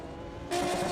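Race car engine in the sim racing game Automobilista 2, a steady buzzing drone that jumps suddenly louder halfway through, sustained and close with no talk.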